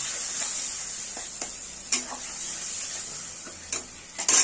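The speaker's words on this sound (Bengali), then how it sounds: "দিয়ে ভালো করে আমরা কষিয়ে নেবো যাতে পেঁয়াজের কাঁচা গন্ধটা না থাকে" Onion paste stir-fried into a tomato and spice masala in a pan, with a steady hiss of frying throughout and a few soft scrapes of the stirring utensil.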